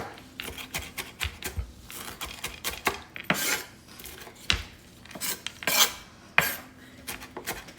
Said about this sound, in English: let's come back to me chopping my stuff here